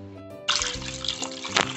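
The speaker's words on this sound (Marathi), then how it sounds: "डाळ आणि तांदळाला मी 4 ते 5 पाण्याने धुवून घेतला आहे" Water pouring and sloshing over soaked chana dal and rice in a vessel, a steady close splashing rush that starts abruptly and continues with a brief stronger surge, over a low background hum.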